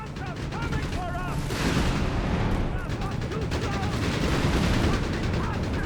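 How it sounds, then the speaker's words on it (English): German guns fire in the Company of Heroes 3 strategy game, with dense, continuous gunfire and artillery rumble and sharp ricochet-like pings throughout, under a steady battle din. "getting hammered here by all the German guns under DevM's devilish command"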